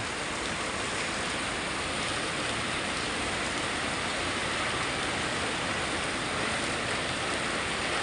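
Downpour of heavy rain, a constant broad rushing hiss like falling water that holds at the same level throughout, with no one speaking.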